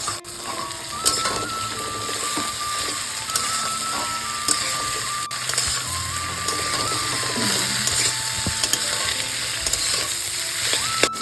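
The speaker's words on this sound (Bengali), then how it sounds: "কাঁচা লঙ্কা গাজর এবং সিম প্রথমে এই সবজিগুলো এক মিনিট মতো পেঁয়াজের সাথে ভেজে নেব" Green chilli, carrot and flat beans frying with onion in a pan, a steady close sizzle running throughout with stirring scrapes and occasional clinks of a utensil against the pan.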